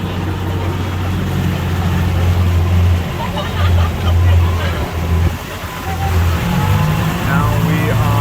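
A vehicle drives back through the Amazon rainforest, its engine a loud, continuous rumble close by with road or water noise, while people talk over it.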